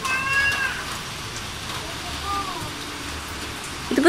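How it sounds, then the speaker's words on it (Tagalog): Heavy rain pours down as a steady, even hiss throughout, with a cat meowing briefly near the start and again at the end. "At ito na nga, umuulan. Sumabay pa ang buhos ng ulan."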